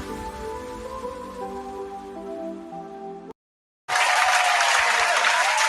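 Live audience at a UHF livestream breaking into loud, dense applause and cheering after a brief silence, following a stretch of music.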